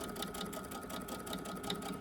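A sewing machine runs steadily, stitching the seam of a fabric market bag at close range with an even, continuous whir and no talk.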